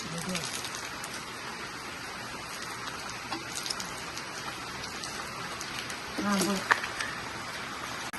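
Rain falls steadily outdoors as a constant close hiss and patter of drops, and a voice briefly cuts through near the end.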